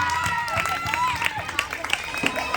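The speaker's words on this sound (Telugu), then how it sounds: "సందేశం ఇచ్చినటువంటి ఆంటీ గారికి మరి ఒకసారి చప్పట్లు కొడదాం" Live audience applause for an aunty who delivered a message at a church ministry celebration, with crowd clapping and hubbub running throughout and a few sharper claps and voices standing out.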